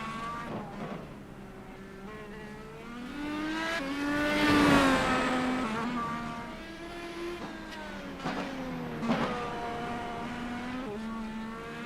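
Simulated Indycar race engine in iRacing at Mid Ohio, a single car alone on track, its harmonic drone rising and falling steadily as it accelerates through gears and lifts for corners, fairly loud throughout.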